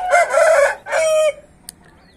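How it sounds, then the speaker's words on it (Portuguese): A handsome, unusually coloured rooster, newly added to a backyard flock, crows loudly and close by in two long drawn-out phrases, followed by a brief faint sound. "Um galo muito bonito,"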